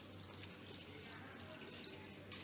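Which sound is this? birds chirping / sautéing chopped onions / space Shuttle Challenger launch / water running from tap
water running from tap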